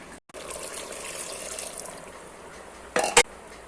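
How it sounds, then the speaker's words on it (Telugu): Water poured into a pot of country chicken curry, a steady trickling gush running for a few seconds and then fading, with a couple of brief clatters near the end. "తర్వాత ఈ వాటర్ కూడా పోసేద్దాం."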